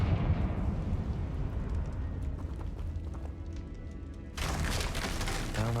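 In the video game Hogwarts Legacy, a Confringo fire spell explosion builds as a rumbling, crackling roar. A bright burst of crashing noise follows near the end and stays loud to the close.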